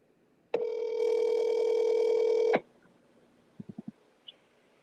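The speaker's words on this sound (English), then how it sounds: "call Don Haynes on speaker" A single call tone plays for about two seconds while a speakerphone call connects, followed by a few soft clicks and short tones in a quiet room.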